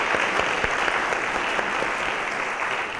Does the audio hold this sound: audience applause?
yes